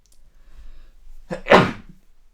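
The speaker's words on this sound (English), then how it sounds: "I'm gonna have to sneeze." A single sharp sneeze, close and fairly loud, with a quick breathy intake just before it and quiet afterward.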